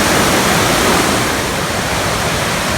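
A river rushing on a forest hike, a steady loud broadband wash of flowing water filling the whole clip, close and continuous with no voices.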